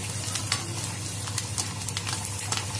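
Vegetable dalia fries in a pan with curry leaves, chili and sugar, giving a continuous close sizzle with scattered stirring scrapes and small pops, and no talking.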